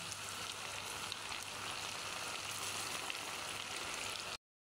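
Crispy macaroni snacks frying in hot oil, a dense continuous sizzle and crackle heard close up, steady throughout with no voices, ending abruptly.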